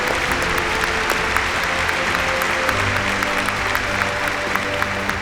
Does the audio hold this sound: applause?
yes